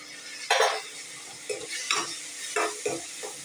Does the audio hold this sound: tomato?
yes